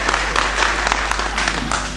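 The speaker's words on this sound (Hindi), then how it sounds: "जोरदार ताली बजा दीजिए," Audience applause at a Hindi comic poetry recital, a dense, steady wash of clapping from a crowd that holds for the full two seconds without a break.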